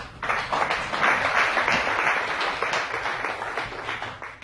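An audience at a talk on language and emotions breaks into a steady round of applause, dense and continuous for several seconds, fading slightly toward the end.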